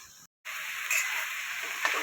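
Ground spice paste hits hot oil with sliced water lily stems, bursting into a steady, close, moderately loud sizzle after a brief silent gap, with a few faint clicks from stirring.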